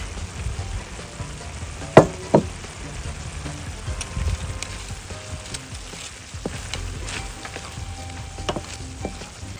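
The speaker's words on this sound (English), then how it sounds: "I feel comfortable stirring the shrimp in so that way it really incorporates itself into the paella dish" Peeled, deveined shrimp fry in a wide paella pan over broth as they are stirred, a moderate low sizzle with a few sharp scraping clicks from the utensil and quieter stirring afterward.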